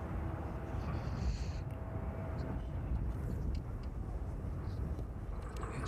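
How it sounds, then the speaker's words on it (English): ATR turboprop airliner arriving on approach at East Midlands Airport in the evening, a broad steady engine drone heard from a distance with a faint higher whine, continuous throughout. "Let's just have a quick look on the approach then at the arriving ATR this evening."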